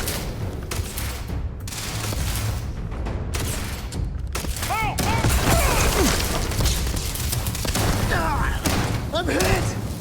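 Shotgun blasts in Starfield, a sci-fi shooter, punch through a dense, chaotic firefight of booms and thuds, loud and continuous, with voices shouting over the combat.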